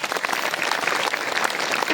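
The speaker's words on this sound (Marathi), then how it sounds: "जोऱ्या टाळी वाजवा." Village listeners at a Marathi kirtan clap together in a dense, lively burst of applause, steady and fairly close across the short moment.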